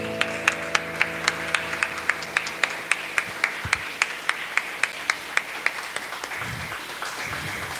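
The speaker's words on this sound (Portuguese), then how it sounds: "Aplauda o Senhor." A congregation at a home worship service claps in a steady, evenly spaced rhythm, with about twenty sharp hand claps in unison over a faint background, slowing near the end.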